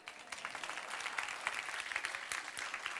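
Clapping from a church congregation for a child, a brief scattered patter of hands that rises quickly and holds steady at moderate level, with no speech on top.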